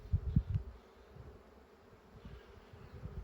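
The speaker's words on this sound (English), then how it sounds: "A lot of bees." Bees buzz faintly in a low drone around a hive, with a few louder close passes near the start, then a quieter steady hum.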